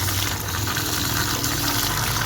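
Tap water gushes steadily as mangoes are rinsed beneath it, a loud, continuous close-up splashing with no pauses.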